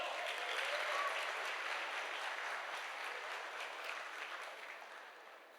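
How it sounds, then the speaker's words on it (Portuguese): An audience claps for two people called up at an event, a steady wash of applause that slowly fades without voices. "Aplauso para eles, gente."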